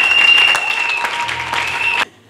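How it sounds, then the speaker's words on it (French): An audience at a Christian church gathering applauds steadily for about two seconds, a dense wash of clapping that stops abruptly, leaving near silence. "Vos applaudissements, mesdames et messieurs."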